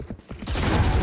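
Valorant gunfire: after a couple of quiet shots, a loud, dense burst of rapid automatic fire fills the last half of the moment.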